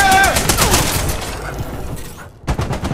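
A video game turret fires rapid bursts of gunfire in a secret facility, loud and close at first. It fades briefly, then a sharp burst returns near the end, with a voice exclaiming over the shots.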